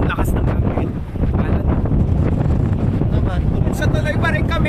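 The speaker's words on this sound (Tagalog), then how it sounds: "Ang lakas ng hangin" Strong wind buffeting the microphone at Pagudpud, Ilocos Norte, a loud continuous roar on a rainy day, with a person talking over it.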